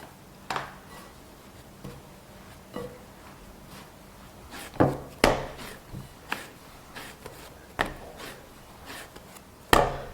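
Dough of flour and warm milk kneaded by hand into a ball, heard as irregular soft thuds and slaps against a board, a dozen or so close knocks spaced unevenly over quiet pauses.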